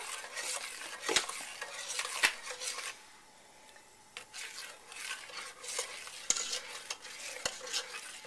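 A pot heats on a gas stove while being stirred, with soft scraping, a faint simmering hiss and several sharp metal clinks of a utensil against the pot, close up and without speech.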